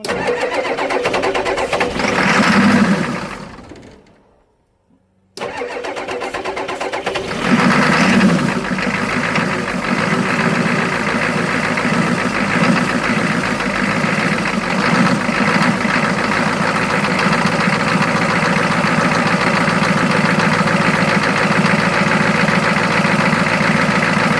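An old abandoned diesel engine, sitting idle for over twenty years and primed with starting fluid, cranks, cuts out for a moment, then fires and settles into a loud, steady, close-up knocking idle.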